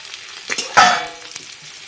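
Pre-fried potatoes tipped into a hot pan with a sharp burst of close sizzling and frying, settling into a steady crackle with a few stirring scrapes and no talk.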